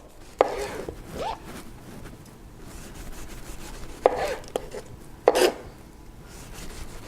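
A kitchen knife slices through tomatoes on a board for a caprese salad, giving a few sharp, close cutting and board-tapping sounds spaced apart with soft handling noise between.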